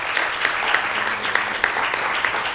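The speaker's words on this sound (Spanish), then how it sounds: "otro aplauso para Edwin." An audience at a Tuesday night science-and-poetry event applauds a performer, a steady clapping of many hands at moderate distance that carries through the whole short stretch with no talk.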